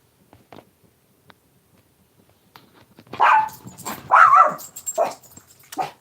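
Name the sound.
puppy barking at animals in the backyard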